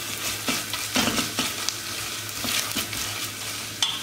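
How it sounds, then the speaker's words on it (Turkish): Tomato paste sautéing in butter sizzles steadily in a pan, broken by scraping stirs and a few sharp utensil clicks, close and fairly loud with no voices. "Biraz salçanın kokusu çıkana kadar kavuracağım."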